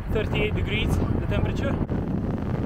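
Strong wind buffets the microphone with a constant low roar while a person talks over it during an outdoor bicycle ride in Qatar.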